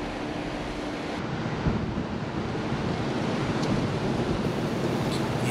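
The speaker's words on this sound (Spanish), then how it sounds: "Ahí se aprecian las olas." Ocean surf rolls in continuously at Ocean Park beach in Puerto Rico, a broad, steady wash of breaking waves mixed with wind buffeting the microphone, with no talk over it.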